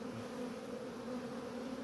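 Asian hornets stream out of their nest in a continuous close buzzing drone, with no voices over it.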